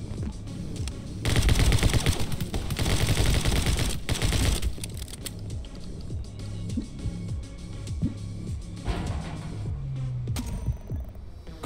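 Rapid bursts of video game gunfire from My Friend Pedro, dense automatic shots hammering loudly for several seconds before easing into sparser shots under the game's music.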